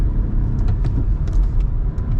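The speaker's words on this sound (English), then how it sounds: "Flooring it. Second gear, second gear. Still flooring up to 66." A hatchback car accelerates hard at full throttle in second gear, its engine a loud, steady, low rumble heard up close without a break.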